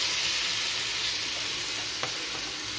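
Peas and a little water sizzling in a hot pan, a loud dense crackling hiss that runs unbroken from start to finish, with one brief clink near the end and no talk.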